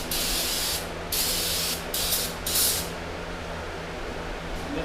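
Brake cleaner aerosol can spraying in several short hissing bursts, close and loud, separated by brief pauses over a low background rumble, no talking.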